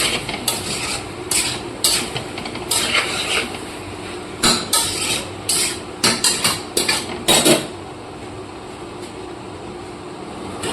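Vegetables of peas, plantain and potato fry in a pan under a steady hiss, while repeated sharp scrapes and clatters of a spatula stirring mark an uneven rhythm.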